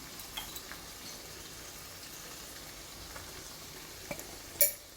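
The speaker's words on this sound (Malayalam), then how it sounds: "മുളകിൻ്റെ വറുത്ത് വെക്കാം." Kashmiri chili powder roasting in a pan with a tomato-based masala for shrimp and drumstick curry, heard as a faint, soft sizzle with a few light stirring clicks and one sharper clink near the end.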